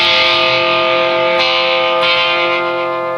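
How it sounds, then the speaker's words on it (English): An electric guitar chord rings out through a Moen Violent Metal distortion pedal with no reverb, a loud, thick, sustained distorted tone that slowly decays, struck again partway through. "It's straight distortion."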